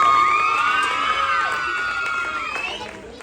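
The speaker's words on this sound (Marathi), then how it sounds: "जोरात टाळ्या वहिनींसाठी." An audience at a Home Minister Khel Paithanicha game-show event cheers a woman contestant with loud, close crowd shouting and whoops, some high children's voices among them, holding steady before fading slightly at the end.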